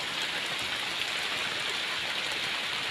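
Heavy monsoon rain pours steadily, leaking through the roof of a mud house, with a dense, unbroken hiss of water drumming and dripping close by for the whole stretch, no voices.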